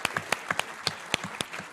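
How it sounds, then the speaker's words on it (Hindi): A studio audience at a Hindi television debate show claps sparsely, with about a dozen sharp, separate hand claps scattered irregularly rather than forming full applause. "तो उनके लिए भी ताली बजा दीजिए।"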